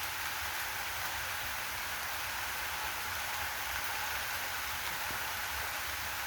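Steady monsoon rain pours onto mango tree leaves and bamboo clumps in rural Bangladesh, a dense, even hiss that continues without pause and with no voices.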